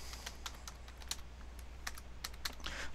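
Keystrokes on a computer keyboard entering a password, a run of light irregular clicks over a steady low hum, close and fairly quiet, with no talk.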